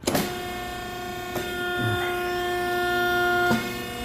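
Pipe bending machine working exhaust tubing for a Chevrolet Blazer in a shop: a steady mechanical hum with sharp clunks near the start, around 1.4 seconds and at 3.5 seconds, close and fairly loud, no talking.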